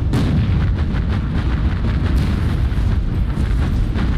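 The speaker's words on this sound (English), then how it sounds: "We're getting boxed in by coastal artillery from Midway and those cruisers." Coastal artillery and naval gunfire in the World War II naval game Battlestations Pacific, set at Midway, pound in a dense, loud barrage of overlapping booms and rumbling blasts with no pauses.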